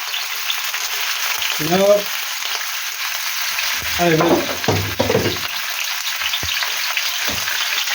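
Chicken sizzles in a hot pan for a chicken balti, a broad steady frying hiss heard close up throughout. Someone speaks briefly over it.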